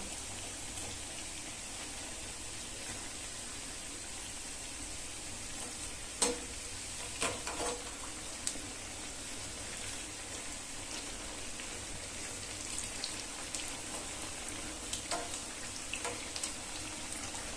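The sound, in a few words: onion vadas deep-frying in oil, being flipped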